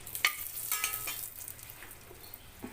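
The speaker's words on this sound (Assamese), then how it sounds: "জলকীয়া দুটা অকণমান এনেকৈ ভাজি ল'ম" Two dried chillies fry in a little oil in a pan, giving a soft, close sizzle with a few sharp crackles and stirring scrapes early on, then settling to a quiet, low fizz.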